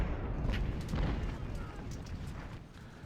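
Artillery fire in the Ultimate General: Civil War video game, a dense rumble of distant booms and bursts layered over one another, rolling continuously at moderate volume without clear gaps.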